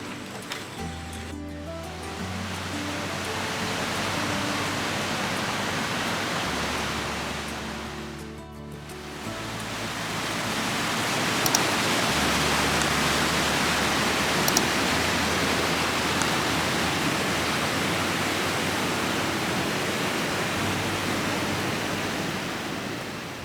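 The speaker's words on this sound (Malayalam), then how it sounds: "എല്ലാ ഷട്ടറും തുറന്നിട്ടുകൊണ്ട് നല്ല അടിപൊളി വെള്ളം കുത്തി ഒഴുകുന്നത് കാണാം." Water gushing through the open shutters of Cheerakuzhy Dam in the monsoon season, a loud, steady roar of rushing water heard close by, with a brief dip partway through and low rumbling underneath.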